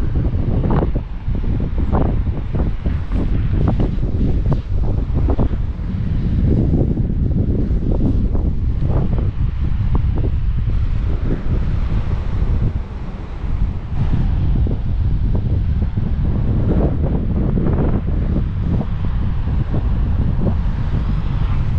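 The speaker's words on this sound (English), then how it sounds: "It's a bit windy." Strong wind on Bryher in the Isles of Scilly buffets the microphone in heavy, rumbling gusts, a loud continuous roar throughout.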